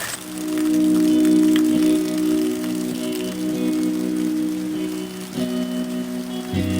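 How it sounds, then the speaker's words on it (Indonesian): Rain falling steadily during a hike through the Sirah Kencong tea plantation, a dense, even hiss of drops that continues throughout, with a low steady hum running beneath it. "alhamdulillah udah dikasih hujan"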